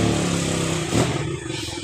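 Broken-down motorcycles with engines running close by, a rough, buzzing idle that briefly swells as one revs, with some clattering and no talk.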